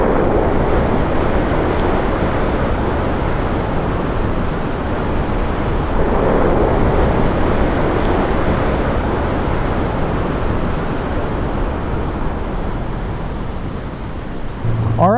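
Ocean surf at Santa Cruz, a continuous loud wash of breaking waves mixed with heavy wind buffeting, steady throughout with no talking.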